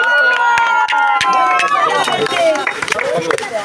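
An audience at a swimming training award ceremony in Kahalgaon, Bihar, run by the disaster management authority, breaks into a burst of sharp, close hand claps while a voice carries over them.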